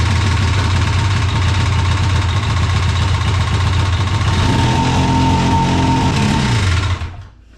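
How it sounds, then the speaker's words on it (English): Polaris Assault snowmobile with a 155-inch track running loud and close, a rapid rattling engine drone that holds steady, shifts pitch slightly, then cuts off. "It's a beast of a sled. I'm just glad it started up"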